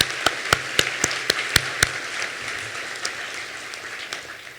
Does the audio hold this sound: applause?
yes